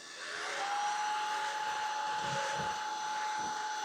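A DIFFULL 550W cordless vacuum cleaner switches on and spins up within half a second, then runs as a close, steady high whine with a sharp tonal hum and airy rushing, no talking.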